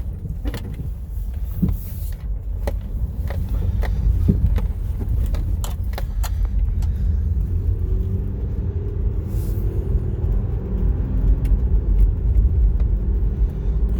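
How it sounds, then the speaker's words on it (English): A 2006 Subaru B9 Tribeca with a newly installed engine drives along a road, giving a steady low rumble of engine and tyre noise inside the cabin with scattered small clicks and rattles. "Just want to make sure the engine runs good, doesn't have any misfires or anything like that."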